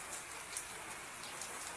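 A gentle drizzle patters on a farm with rice fields, making an even, quiet wash of hiss and scattered small drip ticks throughout, with nobody talking.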